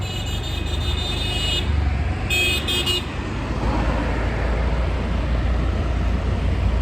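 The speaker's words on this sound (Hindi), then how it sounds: "यह हाईवे है।" Cars rush along a busy highway in a steady, loud roar of traffic, with two sharp car horn toots cutting through near the start.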